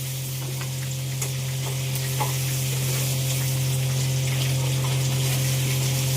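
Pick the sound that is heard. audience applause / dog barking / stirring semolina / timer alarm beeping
stirring semolina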